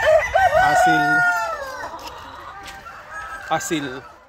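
Asil chickens on a farm crow loudly and close, with a long rising-and-falling call up front, then scattered clucks and another short crow near the end.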